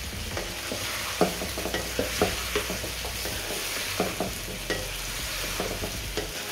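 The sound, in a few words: stirring ginger garlic paste in a pot for biryani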